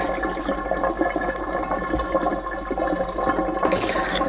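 Water swirls and drains down an RV sink, a steady gurgling rush that stays loud and close throughout, ending with a brief hissing splash.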